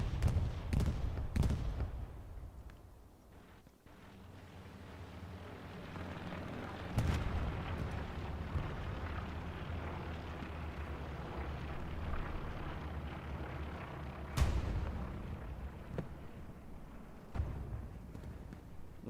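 Faint rocket blasts thump and crack in Hell Let Loose, a few separate bangs spread across a low battlefield rumble, heard at a distance.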